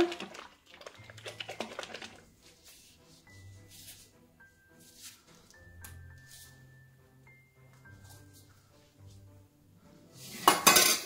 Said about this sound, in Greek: Το ανακατεύουμε καλά.